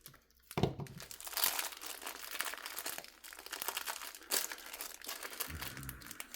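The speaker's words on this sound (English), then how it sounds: "Let's see if I can just cut the tape." A knife slices through packaging tape on a cardboard box, giving close crinkling, tearing and rustling noises in bursts with a few sharper rips.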